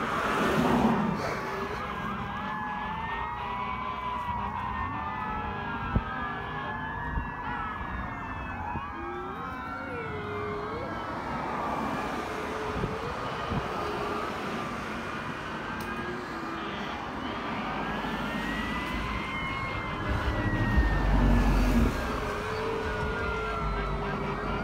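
Several Federal Q mechanical sirens wail at a graduation parade, their rising and falling tones overlapping at moderate distance, swelling louder toward the end over outdoor crowd noise.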